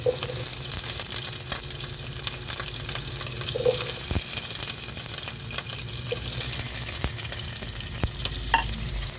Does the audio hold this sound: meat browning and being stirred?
yes